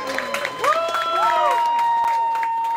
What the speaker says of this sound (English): give them a nice round of applause for that